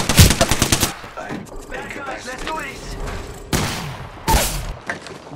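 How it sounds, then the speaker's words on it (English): Apex Legends firefight: a fast automatic burst at the start, then game voice chatter over lighter action, followed by two more loud sharp gunfire bursts later on. "I'm taking fire, friends"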